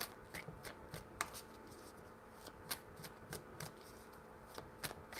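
Cards are shuffled steadily and quietly, with a continuous soft shuffling punctuated by light snaps and flicks, close by and with no talking.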